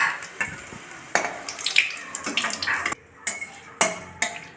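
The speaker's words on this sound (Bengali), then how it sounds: "ওই তেলের মধ্যেই ফোড়ন দিয়ে দিয়েছি" Whole spices spit and crackle in hot oil left over from frying potatoes: a bay leaf, a dried red chilli, a small cardamom and cinnamon pieces. Sharp crackles and sizzles come in uneven bursts at close range, with no voice.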